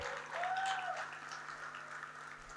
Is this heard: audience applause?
yes